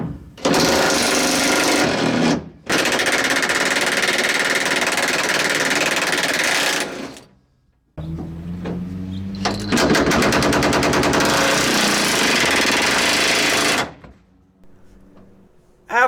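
Loud, dense bursts from a pneumatic impact wrench loosening the strap bolts on a 1963 Thunderbird gas tank, several long rattling runs separated by short pauses, close up with no talking.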